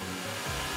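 A hair dryer runs as a steady, loud broadband whoosh with a low hum that shifts slightly, heard alone and close during a face-mask removal.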